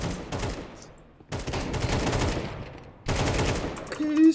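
Counter-Strike gunfire comes in three dense, loud bursts of rapid shots separated by short pauses, with a brief tone at the end.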